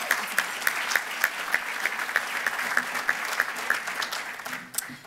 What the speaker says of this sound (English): I think we should give another round of applause to Commerce Lexington